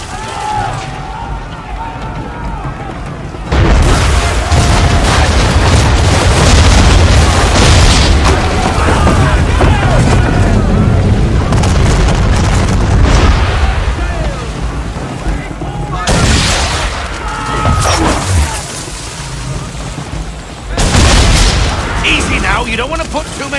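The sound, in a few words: ship cannons firing chain shot in Assassin's Creed III video game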